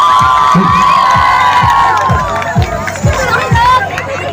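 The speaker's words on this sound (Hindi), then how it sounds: "give a big round of applause for Satyam Jha" A college freshers' party audience cheers loudly as a student is called onstage, with whoops and shouting over a steady, rhythmic thumping beat.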